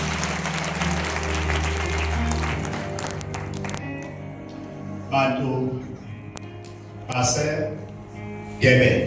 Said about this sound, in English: Today, clap your hands.